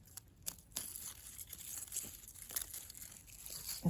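Basil leaves pulled and cut by hand in a garden, with close, quiet crinkling, tearing and snipping in irregular bursts, no voices.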